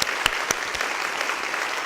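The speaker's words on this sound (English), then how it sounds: "why don't we give those staff a round of applause" An audience at an academic institution's year-in-review event gives staff a brief round of applause, steady clapping with a few sharper nearby claps standing out.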